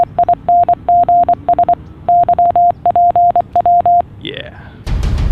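Rhythmic electronic beeps tapped out as Morse code, short and long tones in quick groups over about four seconds, loud and close, followed by a brief swoop and a burst of noise.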